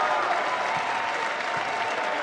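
A basketball gym crowd at a men's college game cheers and applauds steadily, a dense, loud wash of clapping and voices filling the space without a break.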